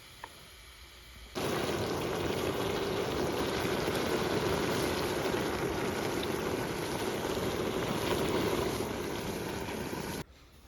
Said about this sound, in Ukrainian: Думаю, чути там звук. І поки воно гаситься, ми зачекаємо